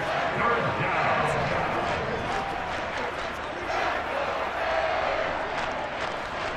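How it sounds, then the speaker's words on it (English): A stadium crowd roars steadily through a Madden 23 football game between the Lions and Dolphins, a dense, constant wash of cheering that swells slightly ahead of a big third down, with commentary over it. "The crowd getting into it as we come up on a big third down."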